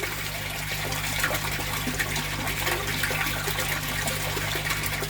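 Water flowing into a fish pond, a steady close rushing and gushing with a constant low hum beneath it and no voices.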